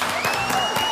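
Applause for a singer on a television talk show, a steady wash of clapping from a studio audience that carries on through the whole moment, with a faint tone running underneath.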